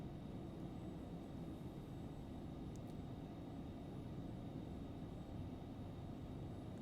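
Embraer Phenom 300 jet engines at takeoff thrust in the X-Plane 11 flight simulator, a steady low roar and broadband rumble, muffled as if from the cabin, with no talk.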